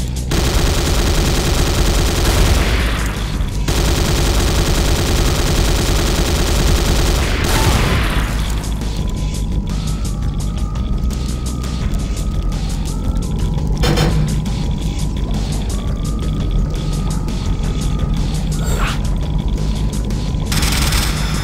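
Heavy, sustained automatic fire from a turret in C&C Renegade, a loud continuous rattle with booming impacts, fading into quieter mechanical hums and intermittent bursts.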